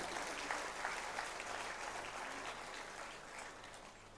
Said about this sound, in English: Can I please request you all to give them a big round of applause?